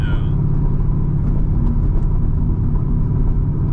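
Modified 2008 Chevrolet Corvette engine droning at about 2,000 rpm, a steady low rumble heard from inside the cabin, constant and unbroken.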